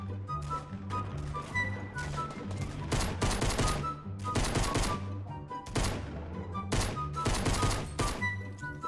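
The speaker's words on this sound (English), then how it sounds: "I hear gunshots" Bursts of rapid gunfire in Fortnite Battle Royale, loud clusters of automatic shots separated by short pauses over a low droning game background.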